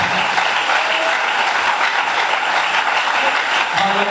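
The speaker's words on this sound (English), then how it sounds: "Someone here not clapping. You're clapping as if you're celebrating." A congregation claps at a church thanksgiving service marking a 20th anniversary. The clapping is continuous and loud, a dense wash of many hands with no speech on top.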